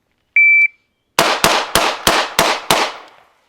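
A shot timer gives one sustained electronic beep, and then six sharp pistol shots follow in quick, even succession during a bill drill on a range. They are loud and close, and each one rings out briefly before the next.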